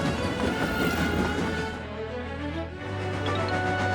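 Express train on rails arriving at a big station, a steady loud rumble with rhythmic rolling and low mechanical hum that eases as it slows, then a sustained low tone near the end.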